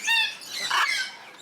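A macaw at a bird sanctuary gives a short, loud, harsh squawk up close, standing out against a quiet background.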